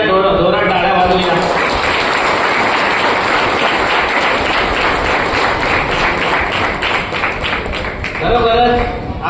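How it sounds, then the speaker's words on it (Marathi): An audience at a family get-together gives loud sustained applause, dense overlapping claps filling the room, with a voice briefly speaking at the start and end. "या महिलेसाठी आपण सर्वांनी एकदा जोरात टाळ्या वाजवूया."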